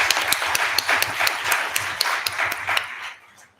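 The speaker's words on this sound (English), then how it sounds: "A round of applause for everyone." A conference crowd at an agricultural policy forum claps steadily for presenters for a few seconds, sharp individual claps standing out, before the applause quickly fades to quiet.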